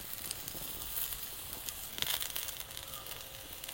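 Capsicum kallittu batter sizzles and crackles in oil on a pan, a close and continuous frying hiss with small pops scattered throughout.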